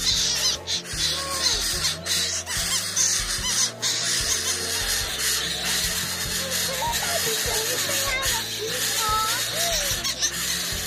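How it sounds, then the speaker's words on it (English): A small toucan gives croaky, repeated calls at an indoor bird show, mixed with other bird chatter and close conversation from nearby people. "That's a little toucan."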